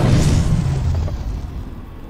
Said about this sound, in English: Now I gotta put an explosive on the wall.